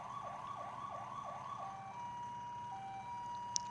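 Electronic PA-300 siren on a fire truck in the video game EmergeNYC, a rapid repeating yelp-style wail that then settles into a steady tone, heard clearly throughout with no talking.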